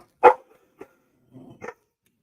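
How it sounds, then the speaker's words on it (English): A dog barks sharply several times in quick succession, loud and close, with short gaps between the barks in an otherwise quiet indoor room. "There's nothing to bark at."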